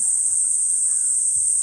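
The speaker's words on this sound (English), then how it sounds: "right now very loud between the cicadas and the baseball players" Loud cicadas in a Tokyo park keep up a steady, piercing high-pitched drone, with faint low background noise beneath it.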